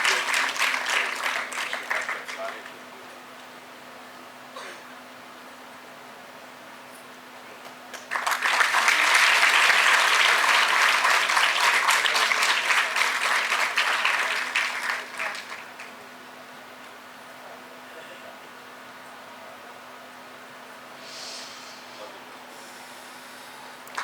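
A burst of loud crowd clapping at a TB-Free India felicitation ceremony at Raj Bhavan, Dehradun, rising suddenly and lasting about seven seconds, between quieter stretches with a brief patter of hands at the start.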